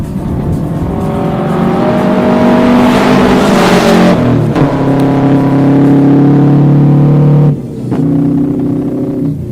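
A rally car on a stage at the Prescott rally pulls away and accelerates hard, its engine revving loud and close, rising through the gears with brief dips at each shift.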